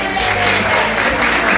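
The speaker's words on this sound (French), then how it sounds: "applaudissez-vous" Audience at a LIMA improv match clapping, a dense wash of applause from a packed hall, loud and brief, with crowd murmur mixed in.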